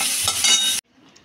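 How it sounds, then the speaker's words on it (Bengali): Tomatoes frying in a pan make a brief, dense sizzle that cuts off abruptly, leaving near silence with faint clinks afterward; no talking. "এবার আমি টমেটো ভেজে নিচ্ছি।"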